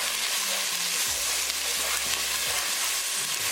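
Garlic and onion tadka frying hard in a pan for a chickpea chicken curry, a loud, steady sizzle with the occasional scrape of stirring.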